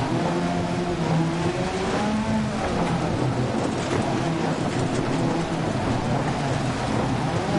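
A rally car engine in Dirt Rally 2.0 on a stage in Wales, a loud continuous drone with rising and falling revs through gear changes, mixed with a heavy wash of gravel and road noise, no talk.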